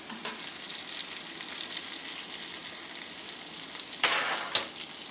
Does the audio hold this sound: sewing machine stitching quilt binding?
no